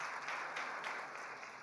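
Audience applause for a prize winner at an award presentation, a steady dense wash of clapping that carries through the whole moment without letting up.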